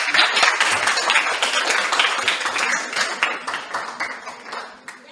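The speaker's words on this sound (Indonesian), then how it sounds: "Tepuk tangan dulu" A classroom group claps together after a student presentation, a lively burst of many hands that stays dense and rhythmic before tapering off at the end.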